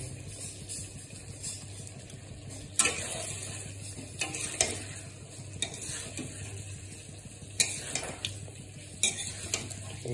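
Chicken curry with chili being stirred in a pan: a steady low sizzle under repeated scraping and clinking strokes of a utensil against the metal, several sharp knocks standing out, close and with no talk.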